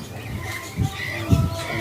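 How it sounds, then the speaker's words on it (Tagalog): A bluebird calling from a tree, two short low cooing notes spaced about half a second apart over a soft, steady outdoor background. "Yan, bluebird yan."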